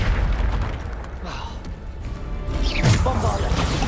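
A Bombarda blast spell goes off in Hogwarts Legacy, a heavy booming burst with a bright crackling tail near the end, heard among other game noise and a voice calling out spell names.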